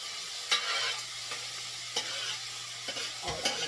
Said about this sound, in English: I'm gonna saute this seasoning